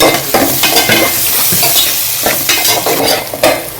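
Turmeric and green chillies being stirred through a frying mixture for pomfret fish fry, a spoon scraping steadily in repeated strokes over a loud, close sizzle of hot oil, with no talking.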